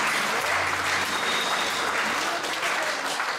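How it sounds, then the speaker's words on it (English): A church congregation at an evening Bible college conference service claps hands together, a dense, steady wash of applause that stays loud for the whole stretch. "Give the Lord a hand clap."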